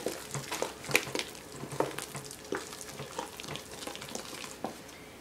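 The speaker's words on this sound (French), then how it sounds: "Ensuite, vous allez mettre une bonne noisette de beurre. Vous remuez à nouveau." Butter melting and being stirred in a pan while mashed potatoes are prepared: a steady sizzle with soft scraping stir strokes and occasional utensil clicks, close and moderately quiet.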